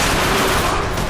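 Rapid gunfire from the video game The Darkness 2 fills a brief, loud burst, dense and continuous like a fusillade.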